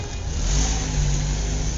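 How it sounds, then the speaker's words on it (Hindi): A car engine arriving outside a college, a steady mid-pitched motor hum with slight revving, fairly close and continuous with no voices. "कुछ देर बाद कॉलेज के बाहर से एक गाड़ी की आवाज आई"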